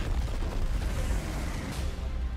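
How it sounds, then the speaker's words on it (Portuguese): A big explosion from the Injustice animated movie trailer: a loud, sustained rumbling blast with heavy low-end roar that fades slightly toward the end, with no voices over it. "Nossa, a explosão"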